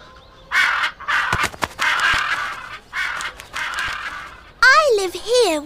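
Crows at a zoo give loud, harsh caws in close repeated bursts, several in a row with short gaps, followed by a voice speaking near the end.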